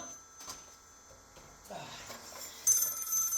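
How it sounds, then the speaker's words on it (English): A telephone rings in an indoor room. The bell starts late, becoming a thin, high ring over faint background noise. "It's the bat phone. Give me a second here."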